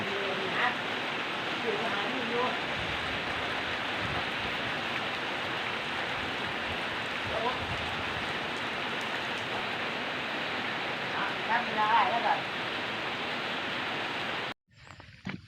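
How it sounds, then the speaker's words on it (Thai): Steady, dense rainfall in Ubon Ratchathani, Thailand, hissing continuously on surfaces nearby, a broad wash of noise with faint murmurs underneath, ending abruptly. "ฝนตก"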